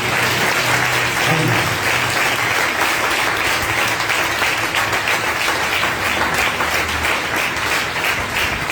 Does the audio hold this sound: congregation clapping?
yes